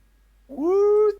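A single close, clear cat meow with a rising, drawn-out tone lasting about half a second. It follows a near-silent pause and has no talk over it.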